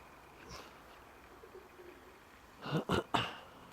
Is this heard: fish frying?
no